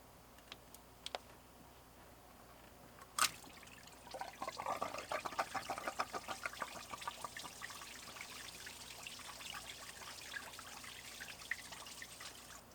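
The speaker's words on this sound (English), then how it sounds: "I just spilt out pretty much all the coolant in the motor" Engine coolant spilling and trickling out of a Honda Integra motor after the thermostat is pulled, a close, quiet run of irregular drips and splashes that starts after a sharp knock and keeps pattering on alone.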